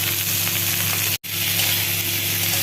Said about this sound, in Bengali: তেল গরম করে পেঁয়াজ দিয়ে দিয়েছি